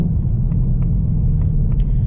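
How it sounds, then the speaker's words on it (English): A 2024 Ford Mustang GT Premium engine with an upgraded exhaust rumbles low and steady while several faint, sharp pops and crackles from the exhaust sound over it. "Got some pops out of the exhaust."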